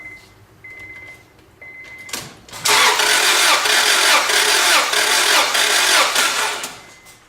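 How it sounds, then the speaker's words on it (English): A faint repeating whine gives way to a loud burst as a gasoline engine cranks during a compression test, then a steady pulsing churn of the engine turning over, close by. "you'll hear the engine turning over"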